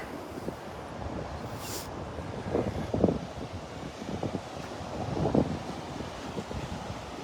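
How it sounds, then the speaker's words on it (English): Ocean waves break on the beach at Delnor-Wiggins, rolling surf rising and falling in a couple of louder surges under steady wind buffeting the microphone; no voices. "Look at all them waves."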